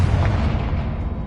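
Confringo spell blast in Hogwarts Legacy: a single heavy, booming burst with a low rumble that decays over about a second, loud and close.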